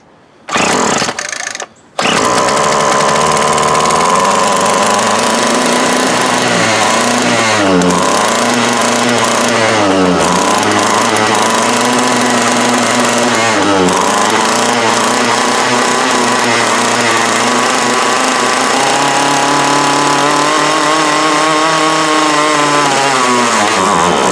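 An old Craftsman 32cc string trimmer engine, about 20 years old, sputters briefly then catches and runs loud and steady at close range, its pitch wavering up and down as the throttle shifts.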